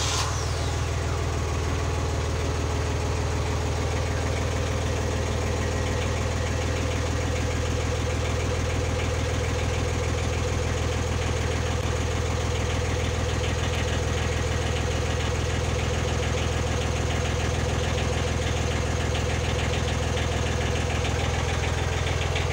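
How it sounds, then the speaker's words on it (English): A narrowboat engine running at just over 900 RPM, a loud steady diesel idle with a constant low throb and rhythmic knocking, close and unchanging throughout with no voices. "we're going to see if the engine runs. I'm going to turn it over now."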